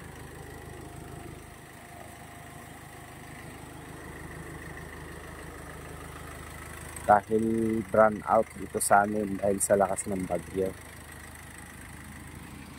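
A small petrol generator engine drones steadily at an idle throughout, with someone speaking over it partway through.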